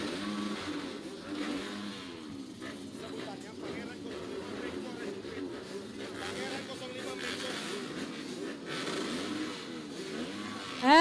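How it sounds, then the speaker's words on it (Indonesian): Racing engines of an under-23 final at Sirkuit Pangeran rev and roar steadily with varying pitch, under continuous commentary, with a louder burst at the very end. "Engine sudah on, mesin sudah meraung, saudara-saudara."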